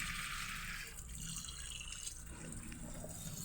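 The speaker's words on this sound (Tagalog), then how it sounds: "Tapos hugasan na natin ang mga gulay." Running water splashes steadily while mixed vegetables, moringa leaves, okra, bitter gourd and long green chili peppers are washed in a sink, a continuous close wash of flowing liquid with no talking.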